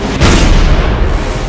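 Cannon fire in a battle, a loud sustained booming rumble with a sharp burst near the start, heavy and close, with no talk.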